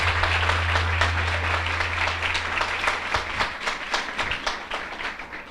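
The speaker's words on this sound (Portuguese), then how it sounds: "Mas aplauda com mais fé" A church congregation applauds together in sustained, dense clapping, with a low hum under the first half and the clapping thinning into looser, more separate claps toward the end.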